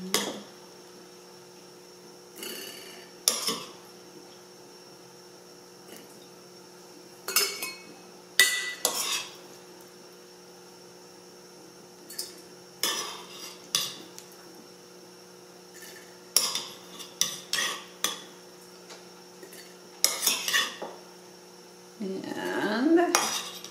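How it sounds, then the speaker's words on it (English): A metal spoon clinks and scrapes against a pot and glass canning jars while Mongolian beef is divided among three jars, producing scattered, close clatters over a low steady mains hum. "We want to divide our meat evenly, well, as evenly as we can between the 3 jars."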